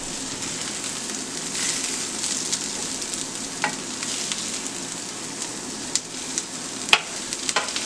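Red link sausages fry slowly in a pan with a soft, continuous sizzle and crackle, broken by a few sharp pops and light spatters toward the end.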